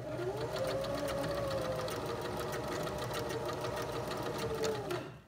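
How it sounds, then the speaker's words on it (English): A sewing machine stitches the ends of skirt elastic back and forth, a close, fast, even mechanical whir running about five seconds before stopping abruptly. "you're just gonna sew them together back and forth, back and forth like this"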